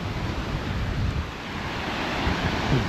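Waves roll in at Bang Saen Beach in Chonburi at night, a continuous soft wash of surf mixed with gusty wind buffeting the microphone, with no speech.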